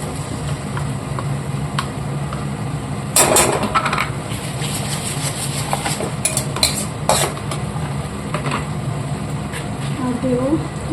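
Ginger garlic paste, fried onions and ground spices being stirred in a pan, with repeated scraping and clattering of a spoon against metal over a low sizzle and background hum.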